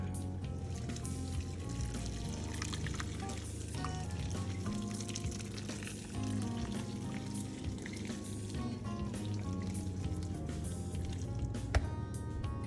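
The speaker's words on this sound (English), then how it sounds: "And I'm gonna go ahead and add the water." Boiled water poured into a pot of kale gives a soft, continuous trickling and sizzling wash that holds fairly steady, faint and close, with no talking.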